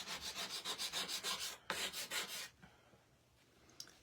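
A board eraser scrubs paste off a craft board in quick, rhythmic rubbing strokes, close and crisp. After a short break comes a second burst of strokes, then near quiet with a faint scrape.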